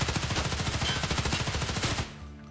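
An HK 416A5 rifle in the video game Escape From Tarkov fires one loud sustained fully automatic burst of rapid, evenly spaced shots that stops abruptly, leaving a brief fading tail.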